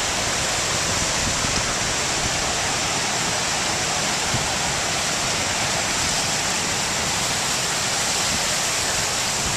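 Rough storm surf on Anna Maria Island, Florida, during Tropical Storm Debbie, a loud, unbroken roar of crashing waves filling the whole stretch with no pauses.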